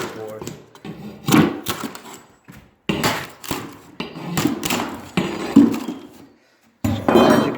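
Old styrofoam baseboard is yanked off a wall during carpet removal, making several short cracking and scraping pulls spaced between bursts of someone talking close by.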